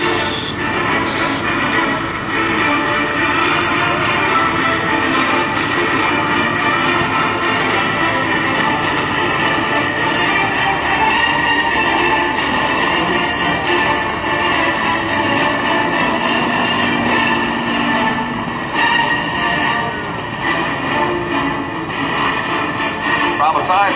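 A Pitts Model 12 aerobatic airplane comes in on final approach for landing at an airshow, its engine droning loudly and steadily throughout, with a voice talking over it.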